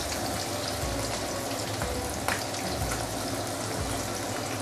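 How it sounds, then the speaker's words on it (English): Fish deep frying in hot oil gives a steady, dense sizzle and crackle that stays loud and even throughout, with a few faint low bumps and no voices. "I'm going to deep fry here until it is almost fully cooked."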